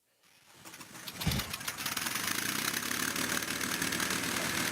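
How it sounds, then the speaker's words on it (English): Aircraft engines warming up before takeoff, rising from near silence into a steady, loud, broadband drone that holds without a break. "they're warming up the engines. We're going to be taking off soon."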